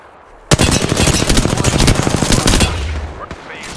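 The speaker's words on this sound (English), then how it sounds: "squad is firing on us." Rapid bursts of automatic gunfire from an enemy squad in a video game, loud and dense, starting abruptly and rattling on for about two seconds before cutting off, with faint game sounds after.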